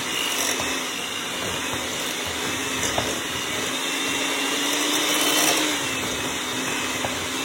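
An electric mixer creams spice cake batter ingredients together, giving a steady, loud, continuous whirring drone throughout with no talking.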